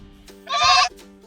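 A single close, loud goat bleat, a wavering nasal cry lasting under half a second, set against quiet background hum and faint noises.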